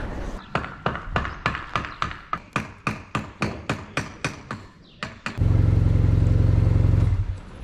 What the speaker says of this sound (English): Just riding the motorbike with a little jacket.